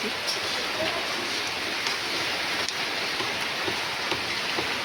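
Heavy rain pours down in a dense, constant hiss, steady and enveloping, with occasional sharper drops standing out.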